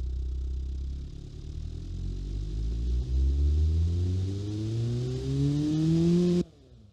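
A cheap family car engine in the racing game Automation revs steadily upward in pitch for several seconds, loud and rumbling, then cuts off abruptly to near silence.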